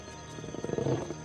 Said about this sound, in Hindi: इनकी दहाड़ 8 किलोमीटर से भी ज्यादा दूर तक सुनाई देती है